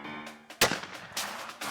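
A single sharp gunshot cracks out loudly, followed by a couple of softer bursts of noise, during an outdoor shooting contest.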